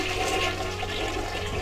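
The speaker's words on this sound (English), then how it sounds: "Let us flush." A toilet flushing in the point-and-click horror game I Have No Mouth and I Must Scream, a close, loud rushing swirl of water held steady for under two seconds with no voices.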